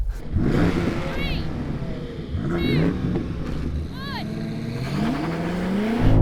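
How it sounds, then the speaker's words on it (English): BMW M5 accelerating hard through repeated rising engine revs with sharp gear-shift breaks, wheelspin and a shift into fourth gear, loud and close while a person talks over it. "It just went up into 4th gear. It spun its wheels and went into 4th gear."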